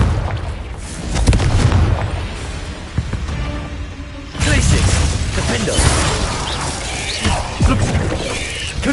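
Fiery Confringo blasting-spell explosions in Hogwarts Legacy, a sharp booming blast near 4.4 seconds followed by crashing impacts and clattering combat effects over dense game noise.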